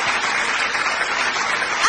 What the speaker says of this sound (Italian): facciamo ancora un applauso per Michael Intelisano